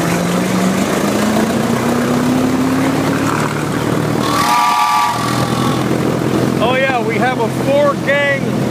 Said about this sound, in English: Four-gang railroad engine whistle in the car, which is operated from the exhaust system.